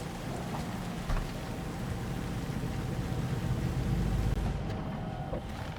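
Steady rain falls in Cyberpunk 2077 in a dense, even hiss with a low rumble beneath, a faint thump early on.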